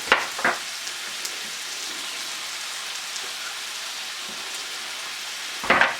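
Garlic and lemon juice sizzle steadily in a pan for sardine pasta, an even crackling hiss that carries throughout, with a few clinks and scrapes of utensils near the start and end.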